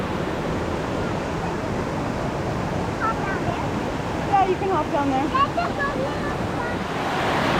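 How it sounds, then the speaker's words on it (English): Steady rushing water of Cascada de Roberto Barrios in Chiapas, Mexico, a continuous broadband roar filling the scene, with a person talking briefly over it and faint higher chirps. "Waterfall slide."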